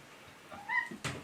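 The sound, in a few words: cat meowing during a bath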